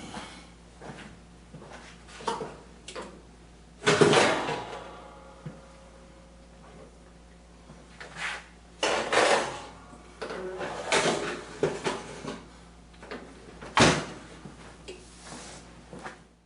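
An oven door thuds open and shut with scattered clunks and sliding scrapes as a 9 by 12 dish of chocolate cake batter goes into the preheated oven, the bumps irregular and fairly close.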